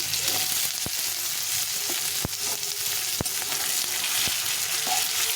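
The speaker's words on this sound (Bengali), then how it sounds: "এখন প্রথমে আমি আলুটা একটু ভেজে নেব আলুটা দিয়ে দিলাম" Potato pieces frying in hot oil with crushed ginger in a pan, a loud continuous sizzle with a few sharp clicks from stirring, close and without talk.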